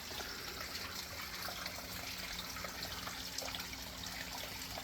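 Water trickles steadily along a creek bed lined with roots, a continuous close, broadband flow with no voices.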